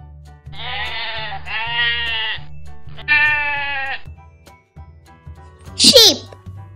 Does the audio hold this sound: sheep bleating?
yes